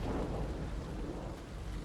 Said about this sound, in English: How come it's always raining or storming?